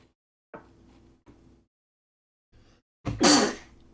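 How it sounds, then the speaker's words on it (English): After a few quiet breathy sounds and throat noises, a single loud, sharp sneeze bursts out close up. "Jeez, that was a good sneeze."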